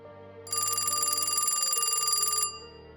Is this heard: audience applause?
no